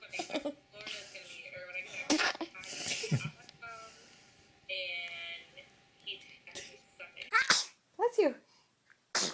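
A baby sneezing several times in a row, sharp bursts spread among cooing and adult talk close by, with a final pair of quick sneezes near the end.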